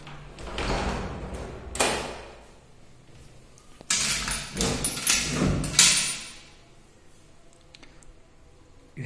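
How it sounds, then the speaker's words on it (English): A sliding door in a brand-new semi-furnished rented flat in Bangalore rolls and thuds in several close bursts of scraping and bumping, with quiet room tone between them. "since it's a sliding door"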